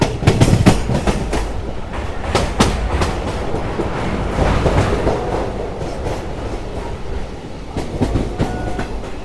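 A goods train passing close by, with continuous rumbling and rhythmic clickety-clack of wagon wheels over the rails, steady and fairly loud with no voices.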